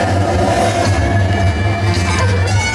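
A steady loud rumble of a passing subway train on a nighttime studio tram tour at Universal Studios, with rushing air and metallic rail noise, continuous throughout with no talking.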